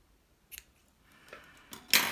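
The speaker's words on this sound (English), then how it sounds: "all you need to do is get a pair of scissors" Scissors cutting knitting yarn close up: a small click, then a quiet rustle building into a sharp snip at the end, faint overall with no voices.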